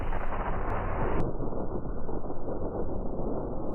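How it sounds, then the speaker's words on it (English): A massive explosion destroys a ship in a One Piece anime battle, a dense, continuous roaring blast rumble that fills the whole clip, loud and sustained with no speech. "The camera then cuts away and we get this magnificent explosion and see a massive pressure wave"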